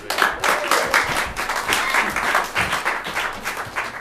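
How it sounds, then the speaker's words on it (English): An audience at an improv comedy show claps in loud, sustained applause that fills the room and carries no speech. "Everyone, give them a round of applause."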